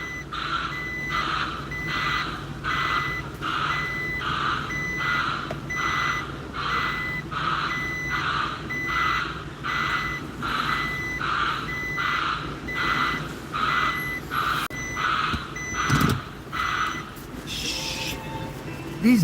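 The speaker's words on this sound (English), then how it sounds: "these buzzers are killing me" Electronic buzzers beep in a steady, evenly spaced series of short high-pitched tones that repeat for many seconds, with a thump and some faint noise near the end.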